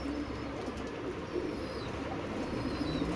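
Breeding pigeons kept in a loft cooing in a faint, steady low murmur with occasional soft chirps above it.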